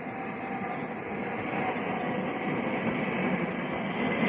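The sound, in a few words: noisy trams passing on an old city street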